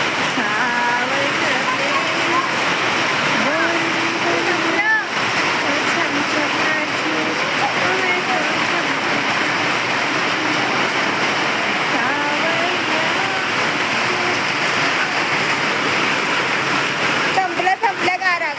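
Heavy rain pours down just after a hailstorm, a dense, continuous roar of water close by, with voices talking and a faint song heard over it.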